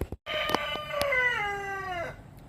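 A backyard chicken, one of a small flock of Rhode Island Red and Americana pullets, gives a single drawn-out crowing call nearby, preceded by a couple of brief clucks.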